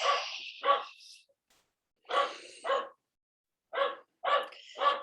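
A dog barks in a close, loud series of about five sharp barks, some doubled, with brief pauses between bursts and no talking.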